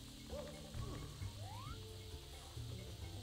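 A bird hooting in the Super Mario 64 video game, a faint sliding call over low game music and background ambience.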